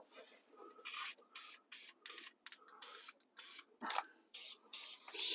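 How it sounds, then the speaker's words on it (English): Blue spray paint is spritzed in short repeated bursts onto a taped-off Ford Galaxie wagon, each hiss lasting about half a second with brief gaps between, close and fairly loud. "So now I guess we'll spritz it with a little blue and, see how it looks."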